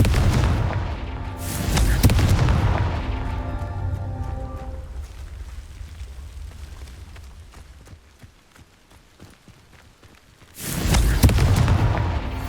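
Two heavy booming blasts from the Confringo spell in Hogwarts Legacy, one near the start and another near the end, each loud with a rumbling tail, separated by quieter game ambience.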